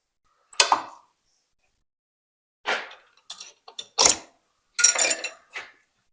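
Tap sharpening fixture fitted with a single flute cam clicks and ratchets in short separate bursts, close and crisp with silent gaps between, about six clusters of mechanical clatter.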